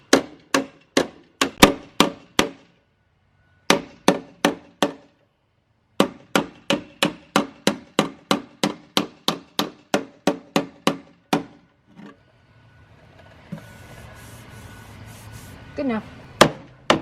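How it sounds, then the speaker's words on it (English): Hammer and dolly pound on a horse trailer's sheet-metal fender in quick, sharp strikes, grouped into bursts with brief pauses, close and loud, before the blows give way to softer shuffling and scraping. "Laura's back in here with the hammer and dolly working on that side of the fender."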